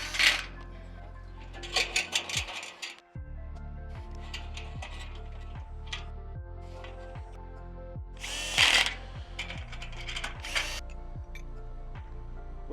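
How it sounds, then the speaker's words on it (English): Power driver tightening set bolts on a dock pipe, repeated short whirring bursts with rising pitch, close and distinct, with metallic clinks between them. "we're just gonna tighten that pipe with the set bolts"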